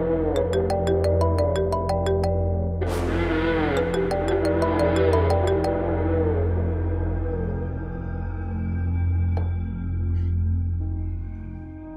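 A phone ringtone from an incoming call plays a bright repeating melodic pattern in two bursts over a steady low music bed, then fades without speech.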